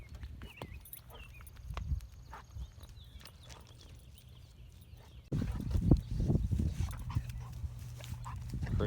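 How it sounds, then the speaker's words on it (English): A dog moves around outdoors at a farm near a creek, with sharp, scattered thumps and scuffles that resemble hooves or paws. A louder, busier stretch of movement comes in the second half, and no one speaks. "Crazy dog."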